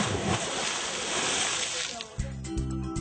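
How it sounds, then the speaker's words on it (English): A cannonball jump into the water after a night dive in Islamorada, a rushing splash and slosh of water close by, settling into quieter lapping sounds as a voice talks. "check out this cannonball!"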